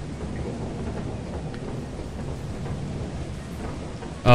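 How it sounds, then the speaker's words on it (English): Steady rain and low rolling thunder fill a stormy outdoor scene in the video game Lethal Company, a continuous broad rumble holding level throughout before a sudden louder burst at the very end. "Oh shit, there's lightning too."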